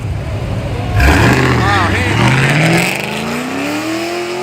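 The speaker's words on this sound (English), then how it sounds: "we got a Mustang right here" A Ford Mustang revs hard at a night track, its engine pitch sweeping up and down in loud, close surges before settling into a steadier rising drone, with crowd noise behind.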